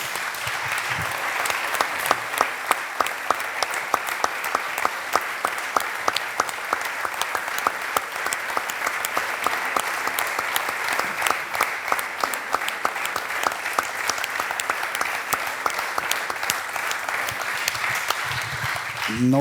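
Applause from a political gathering audience holds steady and dense for nearly twenty seconds, a continuous wash of clapping hands with occasional louder claps.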